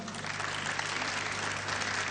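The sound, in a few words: audience applause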